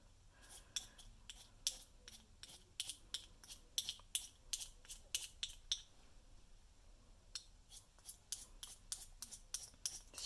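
A HØVEL pencil plane shaving a Holbein Artist pencil gives quiet, crisp scraping strokes in a steady repeating rhythm, each pass short and close, with a brief pause midway.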